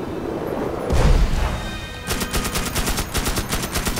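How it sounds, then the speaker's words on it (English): Gunfire in the video game Magicka: a heavy boom first, then a steady stream of rapid automatic shots, loud and close, with no talk. "Cam, stop shooting everyone!"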